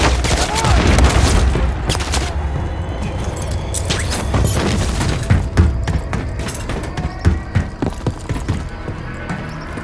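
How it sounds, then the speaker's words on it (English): Gunfire aimed at helicopters in Call of Duty: Modern Warfare III: dense bursts of automatic fire and booming impacts crackle in rapid, uneven volleys, loud and close, thinning into scattered shots toward the end, with a faint voice underneath. "Putting effective fire on the helo"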